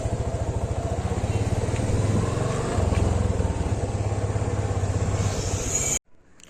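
A KRF motorcycle being ridden, its engine giving a close, steady pulsing drone with slight rises in revs, running continuously until it cuts off abruptly near the end, with no talk.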